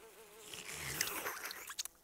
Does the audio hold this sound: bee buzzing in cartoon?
yes